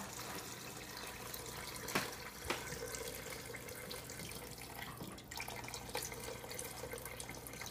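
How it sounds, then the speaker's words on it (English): Liquid fat being poured off barbecue meat from a slow cooker, a steady trickling, splashing stream running throughout at close range, with a couple of brief clinks. "you just pour off the fat."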